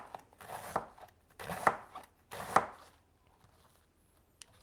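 A knife slices cabbage thinly in three bursts of rapid close-up cuts, each lasting about half a second with short pauses between them, followed by near silence and one faint tap near the end.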